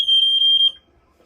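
Vintage smoke alarm in test mode gives a piercing, very loud high-pitched electronic beep, pulsing in a few rapid bursts before cutting off into near silence.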